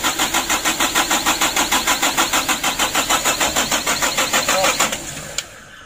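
A Mitsubishi Canter truck diesel engine, hard to start after two months unused, cranking on its starter in a fast, even, loud rhythmic churn for about five seconds before the starter cuts out; no speech.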